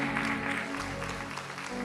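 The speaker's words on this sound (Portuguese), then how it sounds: "Levanta a mão e dá um glória e aplauda Jesus bem forte." A church congregation applauds during a worship service, a soft, steady wash of many hands clapping heard at a distance over a sustained hum of organ or keyboard tones, with no voices.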